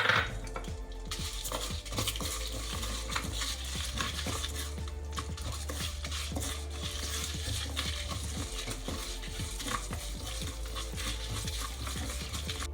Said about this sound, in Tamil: உளுத்தம்பருப்பு அண்ட் மிளகா வத்தல் சேர்த்து போட்டுட்டு நல்லா செவக்க வறுக்கணும்.